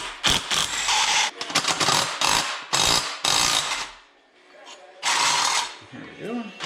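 Ratchet and tools working on bolts at an engine bracket of a C4 Corvette, loud bursts of mechanical clicking and clattering in several spells, up close, with a quieter pause near the end.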